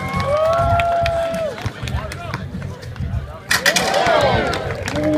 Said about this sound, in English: Let's cheer him on, folks.